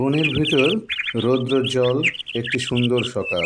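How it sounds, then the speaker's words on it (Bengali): Birds chirp and tweet in a forest on a bright morning in a children's cartoon story, the high calls running lightly beneath a narrator's steady storytelling voice throughout. "চারিদিকে পাখির কিচিরমিচির"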